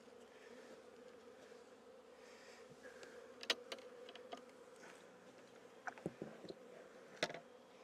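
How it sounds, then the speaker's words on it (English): A faint, steady buzz of many honeybees at a hive entrance hums throughout, with a few light taps and clicks nearby. "This is a very active colony with a lot of bees at the front door."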